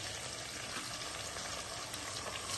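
Green chillies and onions sizzle in hot oil for mixed biryani, a steady, even crackle that holds close and constant throughout with no voices.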